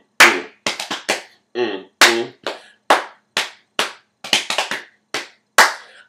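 Sharp single hand claps ring out in an indoor cycling choreography session, spaced in a loose rhythm with brief pauses, close and dry, with a short voiced sound between a few of them.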